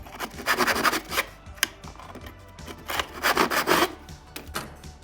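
A hand saw cuts through wood for a chair build, rasping in uneven bursts of strokes, close and fairly loud, with short pauses between runs and no speech.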